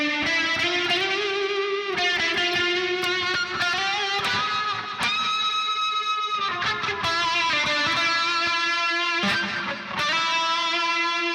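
Heavily distorted electric guitar through heavy drive, delay and a little reverb plays sustained chords and notes with echoing repeats trailing behind, loud and continuous with no talking.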